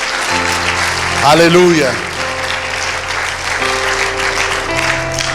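A church congregation breaks into loud, sustained applause during a Spanish-language worship service, with a voice calling out over the clapping and a held musical tone in the background.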